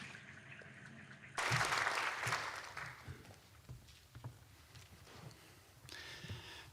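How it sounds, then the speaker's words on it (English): An audience at a formal lecture event in Tokyo breaks into applause that starts suddenly, is loudest at first, then thins into scattered claps before a brief swell near the end. "Please welcome His Excellency with an applause."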